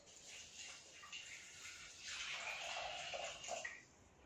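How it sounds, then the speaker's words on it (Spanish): Hot water, 700 grams, is poured into a Thermomix while making a seafood noodle casserole, a steady splashing pour that builds and fades, fairly quiet and heard alone. "ahora lo que vamos a hacer va a ser añadir el agua caliente. Tenemos 700 gramos de agua caliente. Vamos a echarlos."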